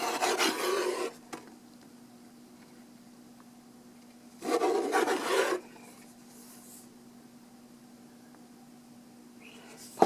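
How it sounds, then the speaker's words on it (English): Pages of a book from a Bond Blu-ray collection are flipped in two quick, close rasping bursts separated by quiet, with a faint steady hum in between. "I'm just going to thumb through the pages real quick right here"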